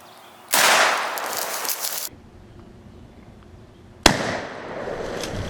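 Two loud shotgun blasts ring out during a turkey hunt in Virginia, each a sharp crack with a long rolling echo, spaced about three and a half seconds apart outdoors.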